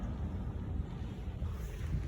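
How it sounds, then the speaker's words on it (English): Wind buffets the microphone in a low, steady rumble with gusty swells, close and continuous, with no voices. "I'm outside, so I'll be quick because it's really windy"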